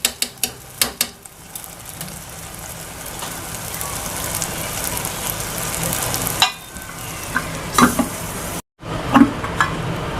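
Goat brain (maghaz) with green coriander frying on low heat, a soft steady sizzle with a few clinks and stirring knocks near the start, close and uninterrupted by talk.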